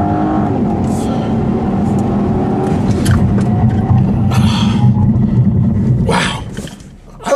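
A 2015 Volvo V60 T6 launches hard from a standstill, its engine roaring loud and steady as it pulls up through the run while traction control intervenes, with brief voice bursts over it and the noise dropping away near the end.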